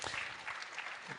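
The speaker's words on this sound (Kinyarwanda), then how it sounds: "Twabikomera amashyi" An audience claps at a panel event, a brief burst of scattered applause that stays fairly faint and lasts only a moment.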